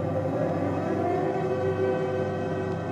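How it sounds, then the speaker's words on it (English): An air raid siren wails over wartime Hamburg at night, a steady, droning tone sustained through the whole stretch at moderate distance, with no speech. "At 33 minutes past 12, the sirens sound."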